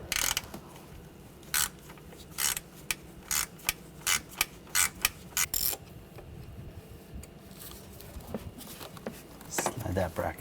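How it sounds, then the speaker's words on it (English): A T25 socket on a ratchet clicks in short bursts as a fuel line bracket is removed from a 2009-2013 BMW 328i xDrive 3.0L inline-six, with sharp metallic clicks and clatter close up while someone talks. "Using a T25 socket, take this bracket off."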